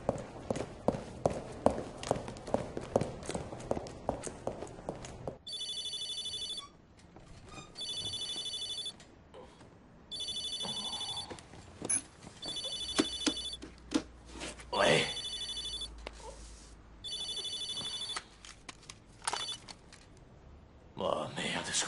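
A mobile phone rings in a film scene, sounding as repeated bursts of a bright electronic ringtone separated by short gaps, fairly loud over background sounds and a few footsteps, with talk before and after.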